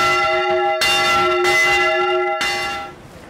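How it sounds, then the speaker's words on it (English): Church bells of St John's Church in Bollington ring out in a full peal, with repeated loud, overlapping bell strikes sounding close and alone before fading toward the end. "The bells of St John's Church in Bollington peal out for the final time."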